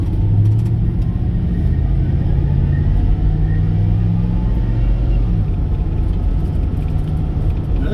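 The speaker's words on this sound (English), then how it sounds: "Traffic. We can't even get out to the right." Steady road traffic rumbles around a car on a developing stretch of road in northwest Georgia, a loud, low, continuous engine and tire drone with passing vehicles swelling and fading, no talk.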